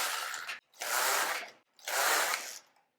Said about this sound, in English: I'm going to knit these 34 stitches off on waste yarn.